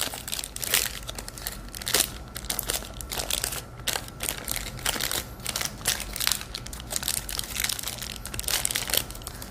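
A packet of white modelling clay is torn open up close, giving dense, crinkly plastic rustling and crumpling in irregular bursts throughout, with no voices.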